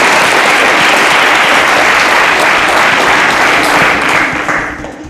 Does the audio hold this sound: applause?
yes